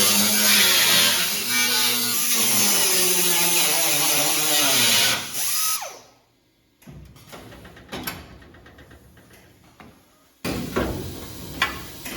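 A power tool cuts into the metal fender of a 1957 VW Oval Beetle, a loud continuous whine for several seconds, then an abrupt stop, quieter clanks, and a final renewed burst.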